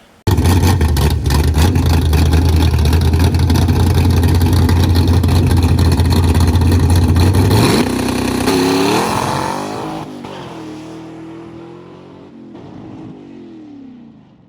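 A manual-transmission station wagon pulls hard and loud up close, its engine droning steadily before rising in pitch as it shifts up through third and fourth, then fading as it moves away.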